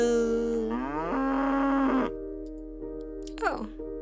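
A cow moos loudly in the Cube Escape video game, one long drawn-out low call that bends in pitch, followed by a quieter short groan and a faint squeak, with no talking.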